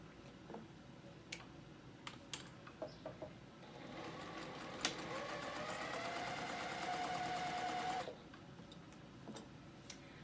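Quiet clicks and taps lead into a steady mechanical whirring of a sewing machine stitching down a fabric raw edge for several seconds, then stop, followed by more light clicks.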